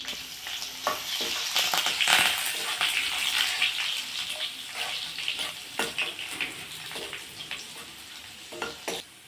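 Mustard seeds, dried red chillies, curry leaves and garlic paste sizzle in hot oil for a cauliflower pickle tempering, a loud crackling fry with repeated sharp stirring scrapes that fade toward the end.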